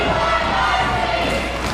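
A wrestling arena crowd cheers steadily through a heavyweight championship match, a dense, loud roar of many voices that holds from start to end.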